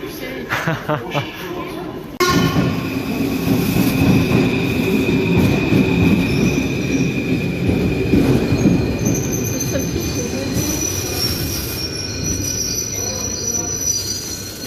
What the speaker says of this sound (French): le métro est finalement arrivé